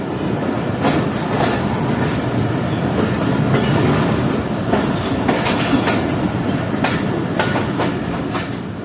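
Passenger train at Sialkot Junction railway station in Pakistan, a steady dense rumble of rolling stock with rhythmic wheel clatter and occasional metallic squeals, loud and continuous with no talk.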